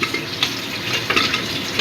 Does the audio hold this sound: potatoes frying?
yes